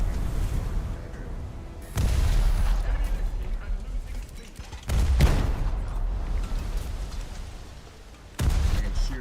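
Naval artillery fire in War Thunder: three heavy booming salvos spaced a few seconds apart, each a loud broadband blast with rumbling decay, close and dominant.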